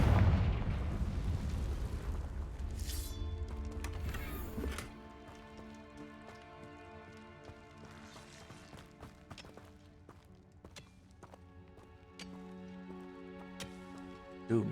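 Booming spell blasts from the Confringo fire charm in Hogwarts Legacy, a loud burst up front fading into crackling rumble and scattered impacts over steady game music.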